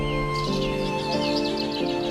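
Birds call in a forest on a Kabini safari, repeated chirping phrases sitting over a steady low ambient hum, moderately loud, with no talk.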